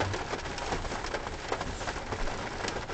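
Steady rain patters on a surface, a soft continuous hiss with scattered drops, fairly quiet and uninterrupted by voices.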